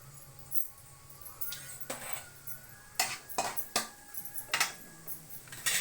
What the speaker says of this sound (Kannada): ಈಗ ನಾನು ಎಣ್ಣೆ ಕಾದಿದೆ, ಸ್ವಲ್ಪ ಸಾಸಿವೆ ಜೀರಿಗೆ ಹಾಕ್ತಾ ಇದ್ದೀನಿ.